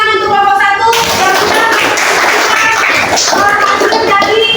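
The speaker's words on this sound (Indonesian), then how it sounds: "kita beri tepuk tangan untuk kelompok 1" Classroom applause for a student group after their presentation: dense hand clapping runs steadily throughout, mixed with overlapping voices and cheers from the students.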